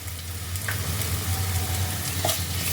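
Mashed potatoes frying with half a spoon of ginger paste for a Kashmiri stuffed aloo dum, with a continuous close sizzle, a low hum and two light scrapes of a spatula.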